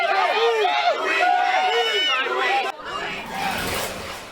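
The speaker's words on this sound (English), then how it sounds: "They are cheering after the New York appellate court tossed out state-level terrorism charges" A crowd of supporters outside a New York courthouse cheers and chants in loud, rising and falling waves of massed voices, with a noisier, more diffuse burst of crowd roar near the end.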